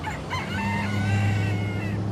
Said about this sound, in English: where roosters usually roam the streets